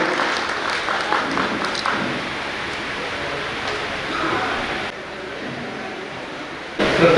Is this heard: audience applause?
yes